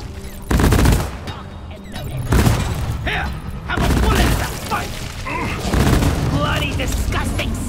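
Repeated bursts of gunfire and heavy booms in the co-op video game Deep Rock Galactic, loud and close, coming in waves with short lulls, mixed with game effects and voices.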